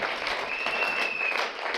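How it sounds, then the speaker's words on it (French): Church congregation applauding during a sermon, a short, dense burst of clapping with a faint tone running through it. "Acclamez le Seigneur Jésus-Christ"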